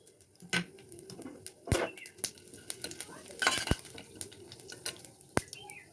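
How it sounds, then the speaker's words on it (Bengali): Bay leaf, a dried red chili and five-spice seeds drop into hot oil for Bengali shukto, crackling with sharp irregular pops and spits over a soft sizzle, close by and fairly quiet. "ওই তেলের ভিতরেই আমি তেজপাতা দিয়ে দেবো, সমাচার দেবো শুক্তোর, একটা শুকনো লঙ্কা দিয়ে দেবো, গোটা 5 ফোড়ন দিয়ে দেবো"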